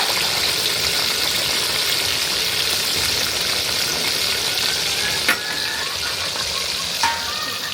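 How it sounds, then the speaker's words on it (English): Tilapia fish fries in hot oil with a steady, close, broadband sizzle that runs unbroken throughout, broken only by two faint clicks near the end. "we are going to allow it to fry."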